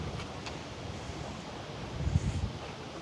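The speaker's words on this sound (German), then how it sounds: "Das ist ganz schön windig hier." Outdoor wind at a harbor where large ships sail past, a steady broadband rush that thickens into low buffeting gusts against the microphone near the end, with no voices.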